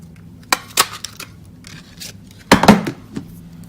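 A hand paper punch cutting a shape out of card stock during card-making, heard as a few sharp snapping clicks, two close together early on and a louder clustered burst a couple of seconds later, in an otherwise quiet room.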